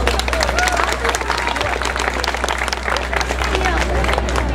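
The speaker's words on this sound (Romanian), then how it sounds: "iar doamna este laureată, să o aplaudăm!" An audience at a Romanian festival in New York applauds with dense, steady clapping that lasts throughout, mixed with crowd murmur.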